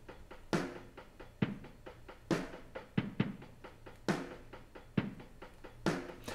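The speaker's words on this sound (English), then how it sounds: "a just really simple halftime drum groove with 16ths on the hi-hat" Simple halftime groove on an electric drum kit, with steady sixteenth notes on the hi-hat ticking between sparse, punchy kick and snare hits, played alone at moderate level.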